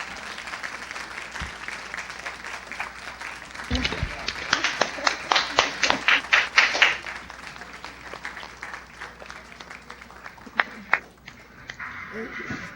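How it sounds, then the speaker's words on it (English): After a talk on Mars climate history and exploration, a small audience gives scattered applause, distinct claps building into a brief flurry before fading, with a voice speaking faintly alongside. "We want to thank your participation with an applause."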